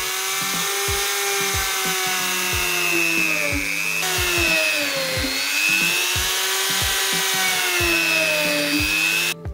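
A small high-speed rotary mini grinder with a 1.5 mm bit drills leather, whining steadily, its pitch dipping and recovering as it bites in, with regular short clicks repeating throughout.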